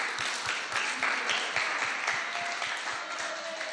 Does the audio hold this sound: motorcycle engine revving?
no